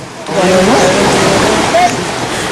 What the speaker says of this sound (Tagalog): Ang mga yero at troso inanod na rumaragas ang ilog